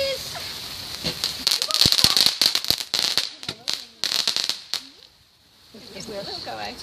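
Sparklers and fireworks crackle sharply outdoors on bonfire night, dense bursts of popping snaps and fizzing close by that thin out and stop near the end, while children and adults chat in between.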